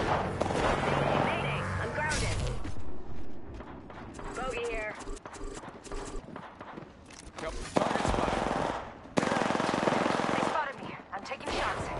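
Automatic weapons fire in rapid bursts during an online shooter video game, mixed with explosions and heavy game effects. A player's voice talks intermittently over the gunfire.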